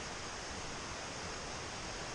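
A creek on a mountain trail in the Great Smoky Mountains rushes with a steady, broadband wash of flowing water, close and continuous, with no voices.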